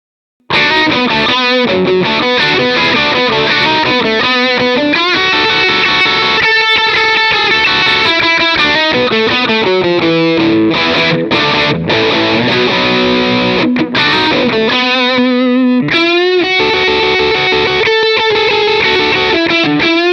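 Crunchy overdriven electric guitar played through a Positive Grid Spark GO amp, a steady stream of chugging rhythm chords and riffs with a gritty distorted tone, no voices.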